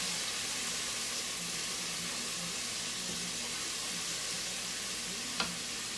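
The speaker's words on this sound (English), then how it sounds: "I'm going to give it a good stir" Food sizzles steadily in a pan during holiday dinner cooking, a constant broadband frying hiss with soft stirring scrapes and one sharp clink near the end; no one speaks.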